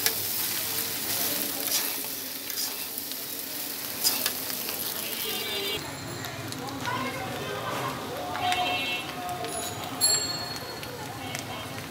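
Pasta and vegetables stirred together in a hot pan for a spicy pasta dish with egg, with a steady sizzle and intermittent scraping and clinking of the utensil, close by, with speech faintly in the background.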